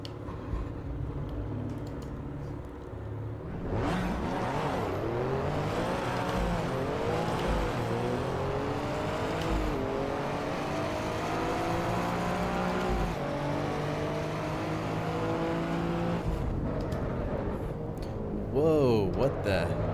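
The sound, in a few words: race car engines in the video game Assetto Corsa Evo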